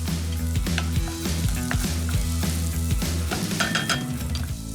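Garlic frying in a pan alongside slowly cooking ingredients for prosciutto egg cups, giving a steady, close sizzle that carries through the whole stretch with faint stirring and pan clinks and no talk.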